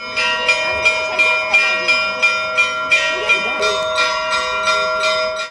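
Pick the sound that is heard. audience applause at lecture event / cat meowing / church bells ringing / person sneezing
church bells ringing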